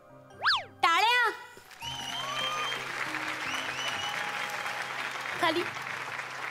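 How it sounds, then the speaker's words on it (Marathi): Audience applause at a Marathi comedy show's award presentation, a broad sustained clatter of clapping rising after a few cartoonish boing and jingle sound effects, continuing steadily through the rest of the stretch. "टाळ्या"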